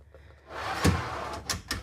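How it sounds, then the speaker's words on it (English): Pantry drawer in a 2025 Newmar Mountain Aire 3825 RV kitchen sliding open with a soft rolling rumble, followed by a few sharp clacks as it stops, close and fairly quiet. "Love these pantry drawers."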